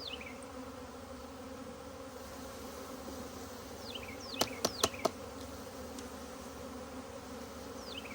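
A steady, close buzzing hum of many honeybees being poured from a package into a hive continues throughout, with a few sharp knocks partway through.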